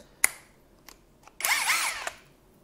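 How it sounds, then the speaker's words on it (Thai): A motorcycle impact wrench, used on a Forza 350 wheel axle nut with a 19 mm socket, gives a few short taps and then a loud burst of hammering rattle lasting under a second, close by. "บูมก็ยังไม่เคยลองยิงเลยนะนี่คือการยิงล้อครั้งแรกของบูมเลยนะครับ"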